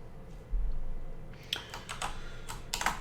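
Rapid bursts of computer keyboard typing while entering drawing-software shortcuts, clusters of close, crisp key clicks after a quiet start, alone with no talk.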